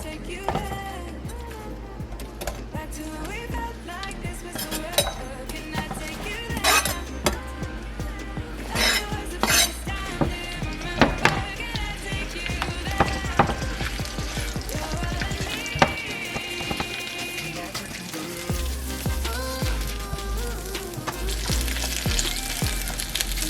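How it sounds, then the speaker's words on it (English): Seasoning cooks in oil in a pot for pork rib tips: a loud, dense, close sizzle with crackling spits and occasional clinks of a utensil, holding steady from start to finish. "We're just gonna cook up our seasoning real quick."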